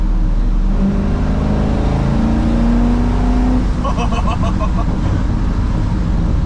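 A 1971 Ford F-100 restomod with an LS3 V8 pulls hard after a downshift, its loud engine note climbing steadily in pitch, with someone talking over the drone inside the cab.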